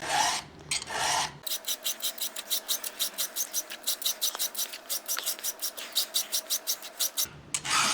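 A hand file sharpens a chainsaw chain in a steady run of quick, even rasping strokes, close and crisp, with a brief louder pass at the start and end.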